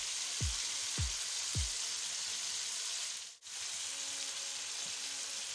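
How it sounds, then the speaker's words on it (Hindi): Tomatoes and green chillies frying on medium heat in a pan give a steady soft sizzle, with a few low thumps early on and a brief dip in the sound midway. "कलर आने तक हम इसको फ्राई करेंगे मीडियम आंच पे"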